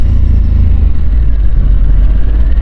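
A Harley-Davidson Sportster S motorcycle on a test ride, its engine a loud, steady deep rumble right up close, with a thick low-pitched throb and wind noise and no voices.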